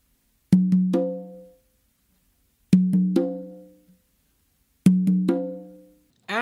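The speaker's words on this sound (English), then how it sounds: "So this tumbao basically starts with two opens on your tumba." A conga tumbao pattern played three times, each pass two open tones on the tumba followed by one open tone on the conga, ringing clearly and alone with short pauses between groups.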